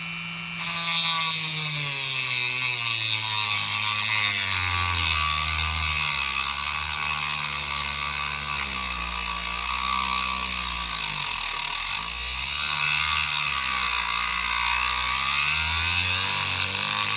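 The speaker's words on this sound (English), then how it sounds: "And I'm cutting through aluminum." A power tool cuts steadily through aluminum for a security camera install, giving a loud, continuous whine with a wavering pitch that runs without a break after a short quiet start.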